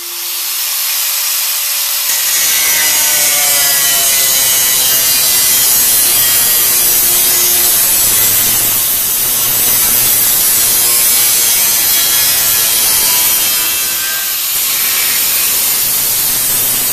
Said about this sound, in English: So I've got my grinder, the metal cutting wheel on it, so I'm just going to go ahead and get on with it.